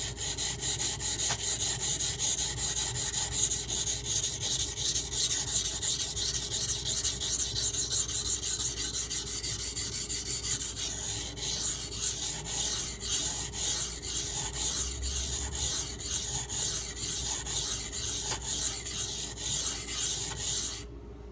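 Steel knife blade sharpened on a Norton water stone, a continuous close wet rasping and scraping that speeds into rapid regular back-and-forth strokes partway through, with no talking.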